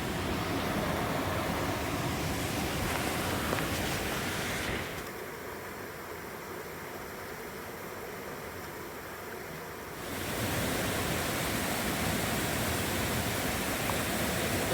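Cold creek water at Upper Creek Falls in Linville, North Carolina rushes steadily while a water bag is filled, the broad hiss dipping and muffling for several seconds in the middle before returning; no voices.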